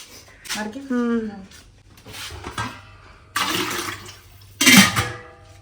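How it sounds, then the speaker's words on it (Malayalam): Water poured into a cup to rinse and wash it, heard as two close, splashy gushes of a few seconds each, with people talking before and between them. "കപ്പിലേക്ക് ഇച്ചിരി ഒഴിച്ച് നമുക്ക് കപ്പൊന്ന് കഴുകാം"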